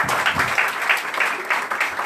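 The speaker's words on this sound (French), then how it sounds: "Applaudissez pour lui." Audience applause at a hairdressing school's fashion show and diploma ceremony, a steady burst of many hands clapping together at close range for about two seconds.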